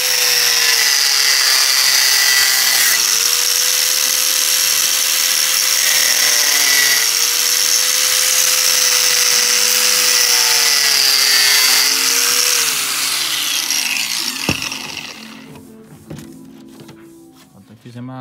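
A power drill bores a hole in the plastic casing of a mini stereo system, a loud steady whine with slight pitch wobbles that stops near the end, followed by quieter handling clicks.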